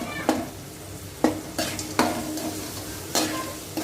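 Potatoes and peas fry in hot oil with a steady sizzle, while a spoon stirs and scrapes the pan in several sharp, clanking strokes spread unevenly across the moment, close and fairly loud, with no voices.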